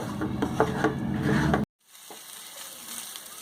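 Green pea paste filling, seasoned with salt, is stirred in a hot pan for a kochuri stuffing. There is close sizzling with scraping stir strokes for about a second and a half, then an abrupt cut to a faint, thin hiss.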